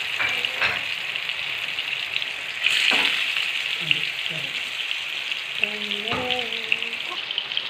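Stuffed ripe plantain fries in hot oil in a pan, giving a steady close sizzle with a few louder crackles and faint voices in the background.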